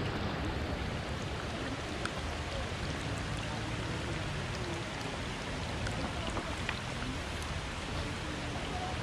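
Light rain drizzles steadily over the Umbul Senjoyo bathing spring in Salatiga, Central Java, as a constant soft hiss of drops with faint scattered patters. No voices are present.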